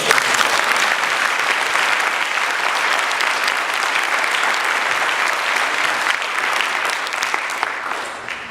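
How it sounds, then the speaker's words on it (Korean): A church congregation at a Korean worship service breaks into warm, sustained applause, a thick and even wash of many clapping hands that stays loud throughout and tapers slightly at the end. "우리 뉴욕 우리 목사님들 다시 한번 뜨거운 박수로 한번."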